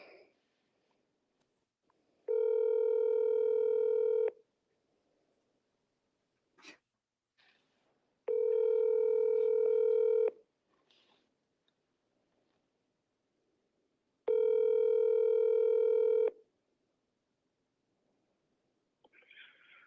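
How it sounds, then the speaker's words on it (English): Steady dial or ringback tone on a telephone call to a realtor, sounding in three long two-second bursts with quiet gaps between them, with faint handling clicks in the pauses. "Okay, Lila, I'm gonna keep you on the phone"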